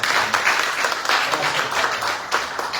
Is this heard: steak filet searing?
no